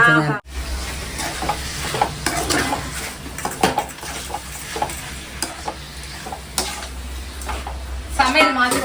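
Goat liver is stir-fried in a pan, sizzling under repeated metal scrapes and clinks of a spatula against the pan, close, with voices talking intermittently.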